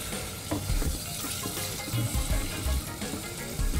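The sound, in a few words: boneless chicken frying in a pan for fried rice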